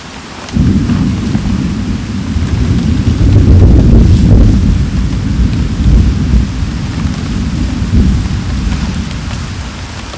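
Heavy rain pours in a forest during a thunderstorm, a loud dense hiss with rolling thunder rumbling close, beginning abruptly and continuing steadily.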